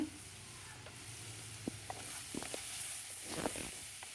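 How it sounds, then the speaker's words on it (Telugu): Chopped spring onions fry quietly in a pan on a low flame with a soft sizzle, and a spoon scrapes and stirs them in a few light, scattered strokes. Nobody speaks. "ఉల్లికాడలు కూడా లో బాగా కలుపుకుంటూ ఉండాలి"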